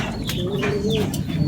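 Racing pigeons coo near a loft during a derby, low soft throaty calls repeating steadily over a constant background hum, with no talk.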